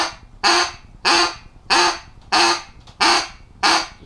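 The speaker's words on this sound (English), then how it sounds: "can get raspy duck sounds out of." Little Big Duck duck call blown in a series of six evenly spaced raspy quacks, each loud, close and ending sharply, with no talking.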